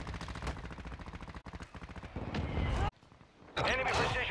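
Video game gunfire rattles in rapid automatic bursts with sharp cracks, broken by brief pauses, fairly close, with voices mixed in among the shots.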